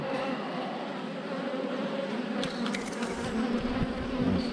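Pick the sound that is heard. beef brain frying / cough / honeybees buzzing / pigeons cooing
honeybees buzzing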